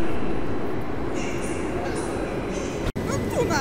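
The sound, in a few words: train with locomotive and two wagons to Jelenia Góra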